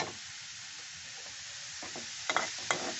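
Bottle gourd with spices sautéing in a pan gives a low, continuous sizzle, with a few brief scraping stirs near the end.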